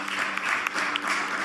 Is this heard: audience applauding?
yes